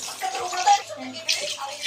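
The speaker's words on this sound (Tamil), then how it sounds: "இப்போ நம்ம தண்ணி ஊற்றிக்கலாம்" Water pours steadily into a pot of rice for chicken biryani with a close, splashing gurgle lasting a couple of seconds.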